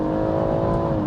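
A BMW M140i accelerating from low speed gives a steady, fairly loud engine drone with a smooth rising tone, heard from inside the car with no talking.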